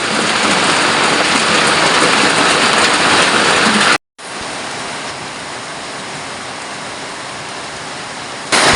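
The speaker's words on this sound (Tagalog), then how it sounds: "Habang malakas ang ulan sa labas" Steady, dense rush of heavy rainfall outside, loud and continuous, with a brief drop-out partway through before the downpour resumes at a slightly lower level.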